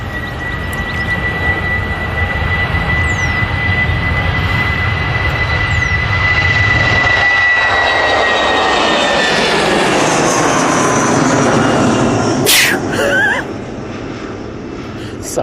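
Airliner jet engines roaring loudly at Manchester Airport as a plane powers past, a sustained rushing whine that swells and then fades, with no talk.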